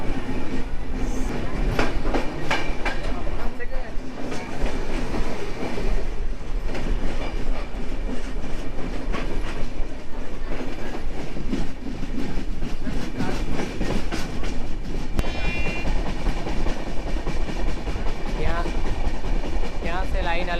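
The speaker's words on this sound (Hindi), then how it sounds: "डिपर्चर हो गया बांकुड़ा जंक्शन से।" The Ruposhi Bangla Express rolls out of Bankura Junction, steady loud wheel rumble and rhythmic clickety-clack over rail joints, with brief squeals, carrying on continuously throughout.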